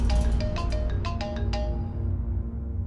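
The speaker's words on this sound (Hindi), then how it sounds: "वॉल्टर वासु का फोन है सर, आप फोन क्यों नहीं उठा रहे?" A mobile phone rings with a bright, repeating melodic ringtone of quick chiming notes over a low rumble of background sound, loud and close, then trailing off.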